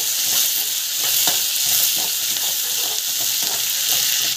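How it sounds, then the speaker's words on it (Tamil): Ingredients sauté in a hot pan with ginger, giving a loud, continuous sizzle broken by soft stirring scrapes at an even pace, close by, with no voices. "நல்லா அப்படி வதக்கிக்கணும்."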